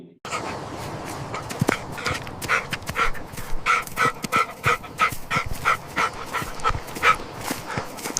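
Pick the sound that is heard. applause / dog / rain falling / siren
dog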